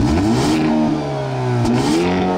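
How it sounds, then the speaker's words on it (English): A 2022 Hyundai Elantra N engine in normal exhaust mode hums and revs with a smooth, rising and falling exhaust note, close and fairly loud, with no talking. "You can choose between three different exhaust notes in your custom mode"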